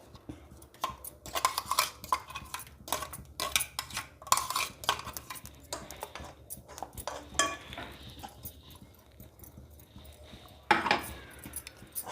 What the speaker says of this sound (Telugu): ఈ విధంగా బాగా కలియబెట్టేసుకోవాలి ఈ ముద్దనంతా